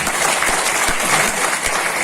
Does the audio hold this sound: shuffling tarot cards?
no